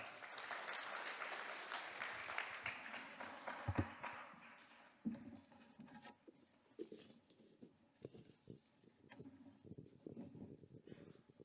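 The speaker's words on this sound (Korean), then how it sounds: "큰 박수 부탁합니다" Audience applause at a Korean church elders' gathering, a sustained crowd clapping that swells loud before fading into scattered claps and a few separate hand taps.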